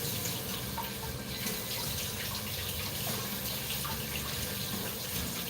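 Tap water runs steadily into a sink while hands are washed, a constant close splashing rush with no pauses and no talk over it.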